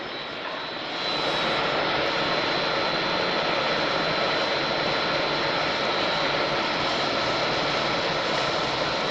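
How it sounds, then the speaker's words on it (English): With air trapped in the system, a pool filter pump motor swells up within the first second into a loud, constant roaring drone that holds steady to the end. "There is some air in there."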